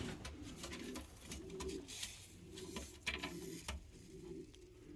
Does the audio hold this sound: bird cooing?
yes